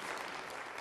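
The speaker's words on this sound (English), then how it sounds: "can we have another round of applause for all of our entrepreneurs" An audience applauds the entrepreneurs at a university Dragons' Den-style pitching event. The clapping is a faint, steady wash in a hall and continues with no break.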